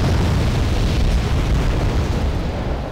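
An explosion destroys an LAV scout vehicle in the real-time strategy game Wargame: Airland Battle, giving a loud, dense rumbling blast that persists throughout.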